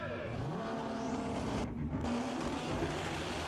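Nissan GT-R drag racing cars launching at a GT-R World Cup event, a distant roaring engine rush with rising whine and a brief gap, heard faintly from the grandstand without commentary.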